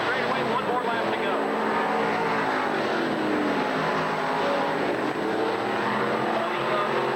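Crate American Racing Series race cars roar down the front straightaway at Tri City Speedway during a nationals night, a loud sustained engine drone under an announcer's commentary.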